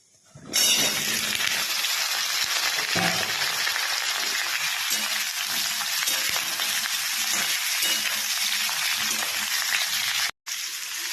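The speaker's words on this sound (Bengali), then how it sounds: "ফোড়নটা ভাজা হয়ে গেছে, এবার কেটে রাখা ঝিঙের টুকরোগুলো এর মধ্যে আমি দিয়ে দেব।" Cut ridge gourd pieces hit oil already tempered with spices, and a loud frying hiss bursts in suddenly and stays dense and steady, broken by one brief gap near the end.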